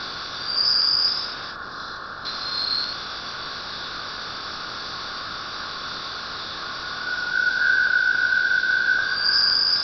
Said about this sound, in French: Voici le son du milieu interstellaire.